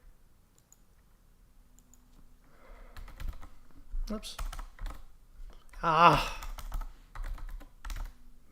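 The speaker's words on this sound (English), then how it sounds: "I know what I'm typing. Just can't type it." Typing on a computer keyboard, uneven bursts of close key clicks that grow busier and louder, with someone speaking briefly over them.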